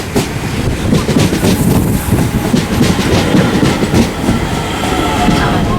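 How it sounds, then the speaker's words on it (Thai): Loud, close rumble of a train arriving at a station in Bray, Ireland, with rhythmic clickety-clack of wheels on rails and a brief high squeal, continuing throughout. "รถไฟมาละขึ้นขบวนนี้เลย"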